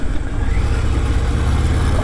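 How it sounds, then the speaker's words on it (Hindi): A Harley-Davidson Breakout motorcycle engine throbs close and loud with a deep, continuous rumble, steady throughout with no talking. "बहुत ही ज़बरदस्त साउंड आता है बाइक से"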